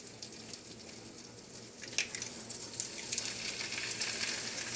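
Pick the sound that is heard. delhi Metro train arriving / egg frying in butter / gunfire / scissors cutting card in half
egg frying in butter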